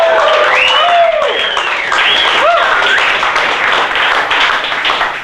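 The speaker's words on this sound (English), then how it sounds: "So everybody give Bryce and High Cotton a round of applause." A crowd at High Cotton Brewery breaks into applause after a speech, with rising and falling whistles and whoops cutting above the steady clapping before it thins out.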